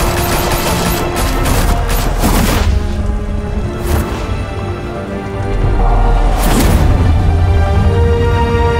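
Heavy gunfire and explosive booms in Batman: The Telltale Series, a loud sustained fusillade of rapid shots with crashing bursts around the second and sixth seconds, dense and close throughout.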